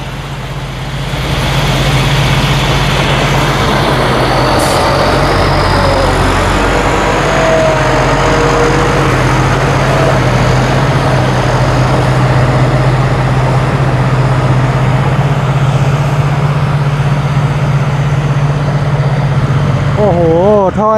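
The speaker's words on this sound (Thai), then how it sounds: "รอบเครื่องยนต์นี่ ค่อนข้างที่จะ รอบต่ำพอสมควรครับผม กำลังเทอร์โบคู่นะฮะ" A new 2025 twin-turbo truck engine idles at low rpm, a steady deep rumble with a constant low hum running loud and unbroken throughout, close to the microphone.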